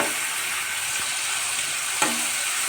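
Spice paste frying in oil in a pan for a stuffed pointed gourd curry, giving a steady, even sizzle with one or two soft clicks of a spoon against the pan and no voices.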